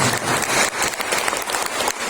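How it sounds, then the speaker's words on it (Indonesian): Audience applause for a neighbourhood ward at a community outreach gathering in Samarinda: dense, steady clapping that fills the whole short stretch at moderate loudness, with no talking over it. "Jadi tepuk tangan untuk Kelurahan Bantuas."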